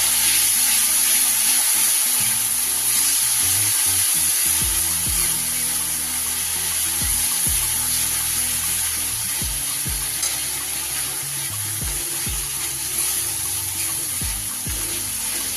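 Spice paste with ground coriander and cumin fries in oil in a pan for a chhanar borar dalna, a loud, continuous close sizzle with faint scrapes of stirring throughout and no talk.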